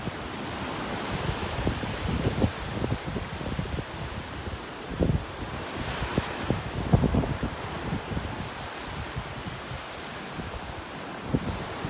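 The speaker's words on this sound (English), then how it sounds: "the waves, the wind." Wind and ocean waves on a beach in North Naples, Florida: a steady broadband wash of surf with gusting wind buffeting the microphone, occasional louder surges, and no speech.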